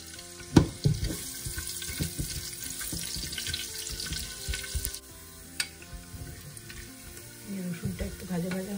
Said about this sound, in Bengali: রসুনটা একটু ভাজা ভাজা হয়ে গেছে।